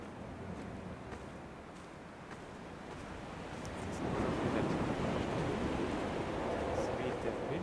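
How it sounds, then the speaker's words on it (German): Soft, steady wind blows across the island in Dear Esther, a gentle rushing hiss that swells slightly louder partway through, with no voices. "Es weht der Wind"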